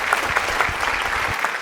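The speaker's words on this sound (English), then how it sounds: "Another round of applause for the two of them." Applause from a live audience at a Ghanaian youth presidential event, a steady dense patter of clapping filling the short stretch without speech.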